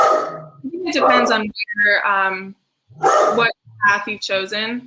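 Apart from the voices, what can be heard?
dog barking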